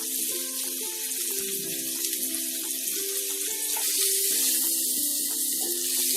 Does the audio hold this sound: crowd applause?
no